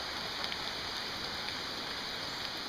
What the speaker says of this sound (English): Right now it's a light rain